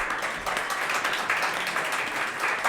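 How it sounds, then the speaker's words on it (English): A live podcast audience applauds throughout, a steady wash of many hands clapping at moderate loudness in an event space with no voices on top. "Let's give Brad a round of applause, please"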